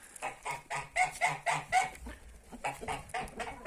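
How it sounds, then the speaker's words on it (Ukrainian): A hen clucks in a farmyard, giving a steady series of short, close, rhythmic clucks with brief pauses and no voices. "ну а наша курочка вже одна пішла нестися"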